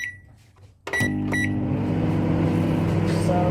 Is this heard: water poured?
no